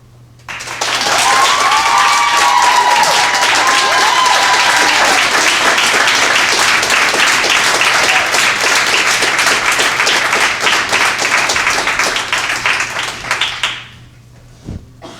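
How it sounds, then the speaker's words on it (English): Audience applause fills a school board of education meeting, loud and sustained for about thirteen seconds of dense clapping before it fades and stops. "I appreciate the spirited applause"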